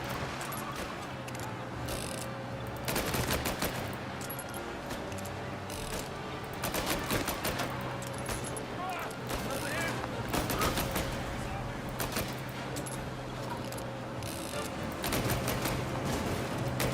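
Gunfire from Mafia: Definitive Edition, several separate volleys of sharp shots spaced every few seconds over a low steady hum, moderately loud, with some talking in between.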